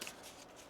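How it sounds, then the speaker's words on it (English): Oracle cards being shuffled by hand during a reading, a soft continuous papery riffle and shuffle lasting under a second, quiet and close with no voices. "One more shuffle here."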